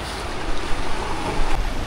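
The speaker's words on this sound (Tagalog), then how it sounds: "Ang lakas ng hangin guys." Strong wind at sea during a fishing outing buffets the microphone in a continuous broadband roar, with gusting swells and no speech.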